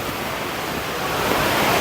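Khlong Lan waterfall in Kamphaeng Phet national park, Thailand, gives off a constant close roar of rushing water, loud and unbroken, growing slightly louder, with no voices.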